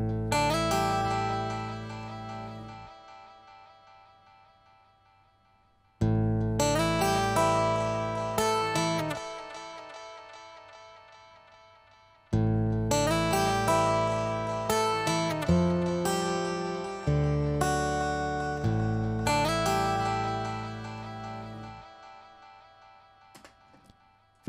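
An acoustic Maton guitar recorded straight into an interface, doubled an octave down with overdrive, plays ringing chords in several bursts separated by short pauses, each decaying slowly and heard alone.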